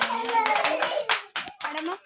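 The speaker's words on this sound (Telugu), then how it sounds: "క్లాప్స్ కొట్టండి." Young children at an anganwadi preschool clap their hands together in a quick, uneven burst of applause lasting about two seconds, close by, with a voice mixed in.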